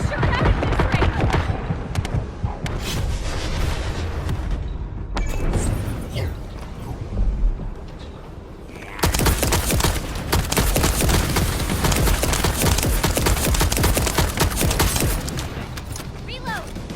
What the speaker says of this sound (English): I'm gonna shoot at it this way!